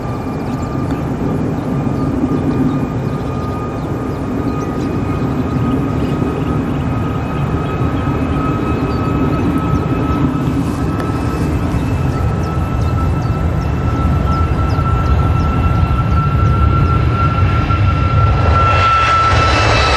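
Ryanair Boeing 737 MAX 8 jet airliner taking off from Manchester Airport, a loud, sustained engine roar with steady whining tones that swells and grows harsher toward the end, with no talk over it.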